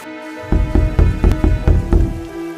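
Heavy rain in a dramatized Hindi story scene, heard as loud pattering bursts of rain on a surface over a sustained musical tone, with rhythmic peaks across the short stretch.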